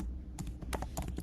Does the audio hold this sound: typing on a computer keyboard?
yes